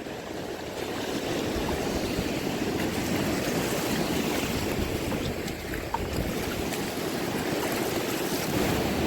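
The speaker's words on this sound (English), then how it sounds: "I'll just let the waves just push me further back" Ocean surf washes in steadily on a beach where someone stands shin deep fishing from shore, a loud continuous roar of breaking waves with wind buffeting the microphone throughout and no talk.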